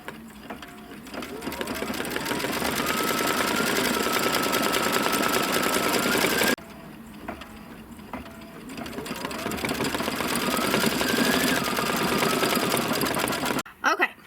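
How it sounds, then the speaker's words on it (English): An embroidery machine stitches small periwinkle blue flowers onto a quilt block, giving a steady, loud rapid mechanical chatter with rising whirring pitch sweeps, briefly pausing midway before resuming. "Step number 15 is stitching the little kind of periwinkle blue flowers."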